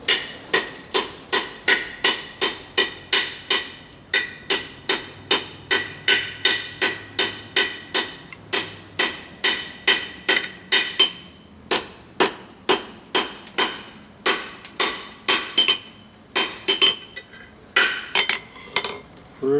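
Hammer blows fall on hot metal at the anvil while forge welding one piece of a Lewis. The strikes are close and loud, with a steady rhythm of about two per second throughout and brief pauses near the end.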